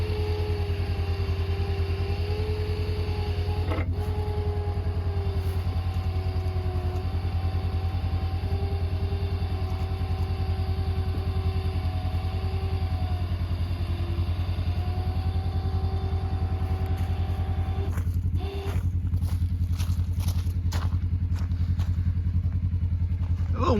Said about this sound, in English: The little winch ain't doing a bad job at all.